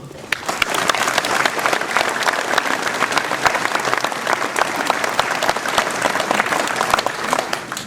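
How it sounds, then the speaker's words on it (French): Audience applause fills a hall at a mayor's New Year address in Ouistreham Riva-Bella, a dense, loud stretch of many hands clapping steadily for several seconds with no voices over it. "je crois qu'on peut l'applaudir"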